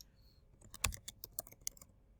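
Keys clatter on a computer keyboard as a search is typed into PubMed, a quick irregular run of about a dozen close, crisp clicks.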